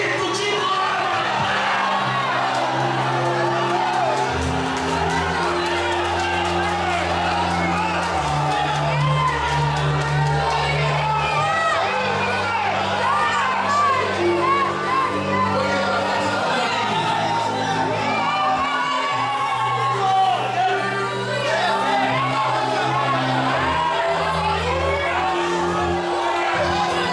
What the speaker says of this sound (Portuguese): Quem acredita nisso, dá um grito de glória.